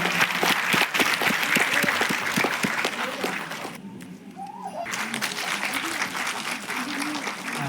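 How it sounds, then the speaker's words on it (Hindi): Parents applaud to welcome the local MLA at a school annual day, hearty clapping that thins out briefly midway as a voice speaks, then swells again into steady applause. "मैं अपने सभी अभिभावकों से अनुरोध करूंगा कि एक बार जोरदार तालियों के साथ माननीय विधायक जी का स्वागत करें।"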